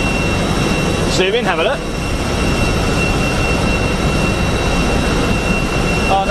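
An Airbus A320 jet airliner lands at Brussels Airport, its engines a steady, loud broadband roar throughout, with people briefly talking over it early on.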